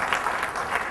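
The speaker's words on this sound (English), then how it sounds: "A round of applause to all the speakers." An audience gives a round of applause for the speakers at a feedback session of a BarCamp tech unconference in Bangalore, a steady, dense clapping that fills the whole second.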